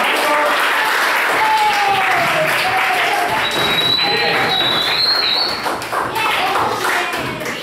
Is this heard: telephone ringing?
no